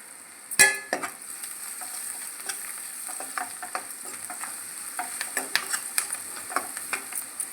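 Tempering for idli upma fries in a pan with turmeric, giving a soft continuous sizzle under frequent light clinks and scrapes of a spoon stirring against the metal.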